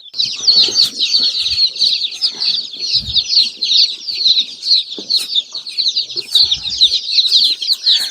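Baby chicks just delivered in a shipping box chirp constantly in dense, high-pitched peeps while the box is handled and opened, with soft rustling and scratching underneath.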